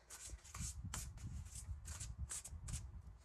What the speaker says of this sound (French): On va prendre, les amis, quelques messages d'oracle et puis on va découvrir donc les 3 cartes.